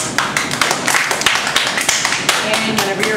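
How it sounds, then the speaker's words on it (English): Classroom audience giving a round of applause for a speech, dense quick clapping at moderate loudness throughout, fairly close and unbroken. "let's give a round of applause."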